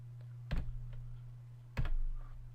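Two sharp key presses on a computer keyboard, the delete key, sound about a second apart, close and crisp over a steady low hum, with no talking.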